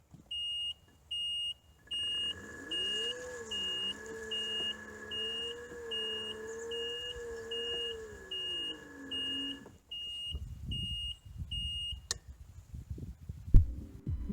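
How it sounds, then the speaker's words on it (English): Reverse warning beeper on a Ryobi RM480e electric riding mower, a steady run of evenly spaced short beeps over a faint, wavering motor hum, with the beeping continuing briefly after the hum stops and some handling clatter at the end. "Switching into reverse, you will hear the warning beeper."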